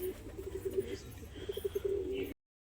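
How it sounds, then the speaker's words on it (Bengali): A female pigeon coos nearby in a run of soft, low, throaty notes that cuts off abruptly, with faint background noise. "এটা মাদি পায়রা"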